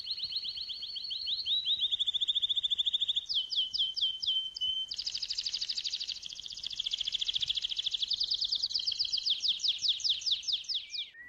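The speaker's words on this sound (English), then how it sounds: "the reason why I have bird songs playing in the exhibition" Recorded birdsong played in an art gallery exhibition: continuous bright chirps and warbling trills in quick, repeated phrases, loud and close, with no talking.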